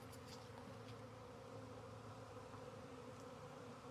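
A swarm of honeybees hums steadily at close range, a low even buzz with a few individual bees passing near, ending in a sudden sharp knock.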